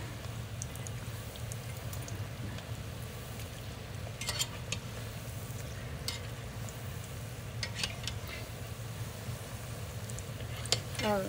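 Tuna cutlets frying in oil in a pan on a stove top, giving a steady close sizzle with scattered crackles and pops over a low background hum.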